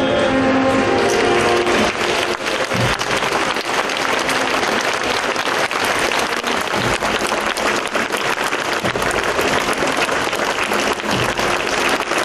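Thousands of mourners in Lviv applaud along a funeral procession for Vasyl Slipak, a dense, sustained outdoor clapping that stays loud and unbroken from start to finish.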